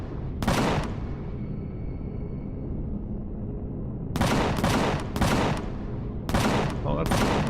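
Bursts of gunfire from aliens being shot in the space survival game Empyrion: Galactic Survival, several loud rapid volleys separated by quieter stretches of background game ambience.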